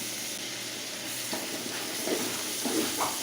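Ginger and garlic fry in oil with coriander and mint leaves, a soft, steady sizzle with a few light stirring scrapes toward the end.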